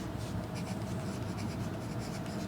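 Pencil scratching across paper, close and steady, with short rhythmic strokes, writing with a 14B pencil.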